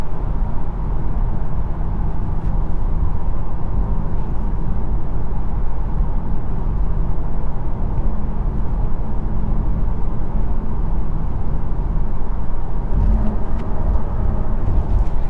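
A 2022 Porsche Taycan RWD electric sports car cruises with a steady low hum and road rumble, a continuous synthetic sporty drone under the hushed interior noise.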